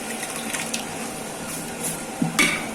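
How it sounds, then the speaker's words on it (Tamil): Yogurt goes into a chicken dum biryani masala of tomato and spices cooking in a pot, giving soft sizzling and stirring with a few brief clinks of utensil against metal. "இப்ப அடுத்தது பாத்தீங்கன்னா ஒரு 400 கிராம் தயிர் சேர்த்துக்கலாம்."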